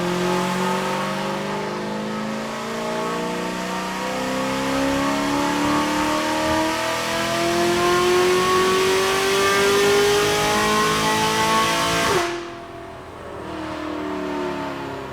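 An SBE LS7-powered Corvette C6 Z06 on a dyno, running pump gas, revs hard in one long pull: a loud, close engine roar whose pitch climbs steadily for about twelve seconds, then cuts off abruptly and settles into a lower idle.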